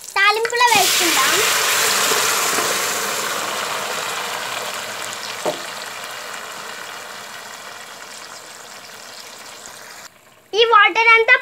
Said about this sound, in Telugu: ఈ మటన్ని తాలింపులో వేసుకుందాం